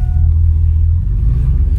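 A Nissan Titan truck engine with its resonators removed runs loud and deep like a drag truck, a steady heavy rumble close by with no talk.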